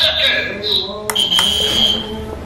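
A tabletop basketball game's electronic timer gives off repeated shrill buzzer beeps in short bursts, loud and close, while a voice talks over them.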